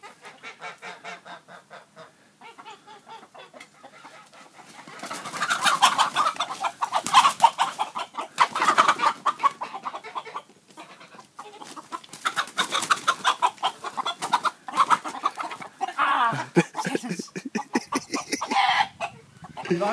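A flock of chickens clucking and squawking busily, close by and fairly loud, with occasional honk-like cries and flapping over a continuous, restless chatter.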